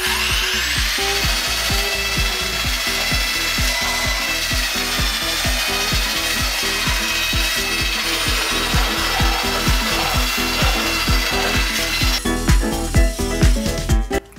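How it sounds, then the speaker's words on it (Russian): A Tekhmann belt sander set to speed two sands a wooden workpiece with a continuous loud abrasive rasp, a steady rhythmic pulse from the belt beating under it, and rougher, uneven scraping near the end. "вот уже на двоечке что-то минимальное шлифануть, почистить, без проблем на двоечке работает, если не давить."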